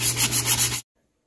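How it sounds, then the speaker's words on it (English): Rough, rhythmic strokes of heavy-grit sandpaper on a handlebar, about five quick back-and-forth rubs in close succession, loud and near, then abrupt silence. "we're going to clean up the handlebar with a heavy grit sandpaper"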